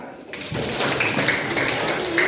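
Children clapping their hands during a road-safety session with a traffic-light exercise, brisk clapping starting suddenly after a brief quiet moment and carrying on with a voice under it.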